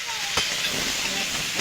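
Pumpkin and potato with green chilli, turmeric and salt fry in a pan, giving a steady close hiss and sizzle with a brief stir, no speech.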